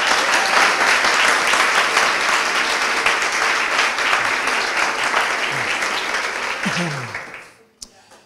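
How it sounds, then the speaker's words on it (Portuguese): Sustained, loud applause from a large church conference audience fills the space, then fades out near the end. "Dê um aplauso bem forte para Jesus."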